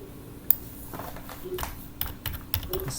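Typing on a computer keyboard: a quick, irregular run of light, close key clicks with one sharper tap at the start, played alone in a quiet room.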